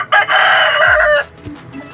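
An Aseel rooster gives one loud, close crow, a strained, drawn-out call lasting about a second, followed by faint rustling and quiet.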